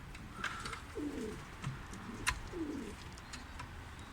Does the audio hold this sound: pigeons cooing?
yes